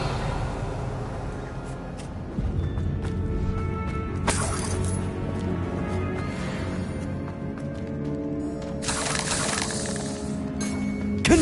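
Revelio cast in Hogwarts Legacy on PlayStation 5, heard as soft shimmering, clinking, glassy chimes that arrive in a few bright bursts over a quiet, low ambient backdrop.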